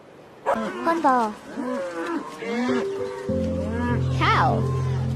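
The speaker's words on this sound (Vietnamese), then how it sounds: "Cow." A cow gives drawn-out moos, one near the start and another toward the end, loud and close, with a steady musical backing.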